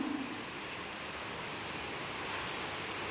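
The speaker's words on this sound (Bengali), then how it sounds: "প্রচণ্ড বাতাস এখানে আর থাকা যাবে না" Strong wind blowing hard outdoors during a hot-season rainstorm with lightning, a steady broadband roar buffeting the microphone throughout, loud and unbroken, with no voices.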